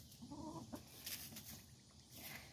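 Backyard chickens feed on celery heart and leftover waffles, giving a few close, short clucks and murmurs in a brief burst.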